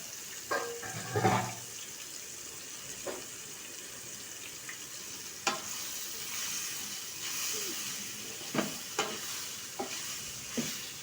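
Bitter gourd fries in oil with a soft continuous sizzle while a spoon occasionally scrapes and stirs the pan in short, spaced strokes, fairly quiet and close.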